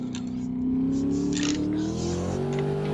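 A Corvette C6 engine in a racing video game drones and revs with a rising pitch, a steady mechanical tone climbing as the car accelerates.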